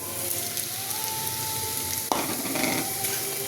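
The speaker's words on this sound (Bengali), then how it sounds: "এবার সুজিটা একটু ভেজে নেব" Semolina frying in oil in a karahi, with a steady close sizzle and stirring, one sharp knock of the spoon partway through and a faint tone in the background.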